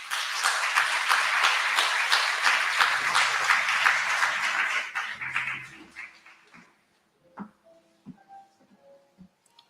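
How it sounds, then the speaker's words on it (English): Audience applause at an LNG and bunkering service ceremony, loud dense clapping for about five seconds that fades out, followed by a few faint scattered sounds in a quieter room. "Another hand of applause for the FFS Tank Terminals colleagues."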